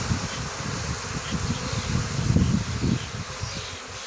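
A honeybee swarm that has settled in a garden in Macclesfield fills the air with a dense, continuous buzzing hum that rises and falls slightly, close and fairly loud, with no speech.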